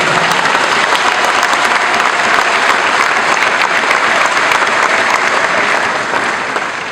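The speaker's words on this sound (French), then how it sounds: "Je voudrais demander à l'Assemblée ici présent d'applaudir très fort pour le cardinal." A large congregation at a funeral mass applauds loudly for the cardinal, a thick continuous roar of clapping that stays strong for several seconds before easing slightly at the end.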